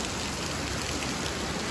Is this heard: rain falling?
yes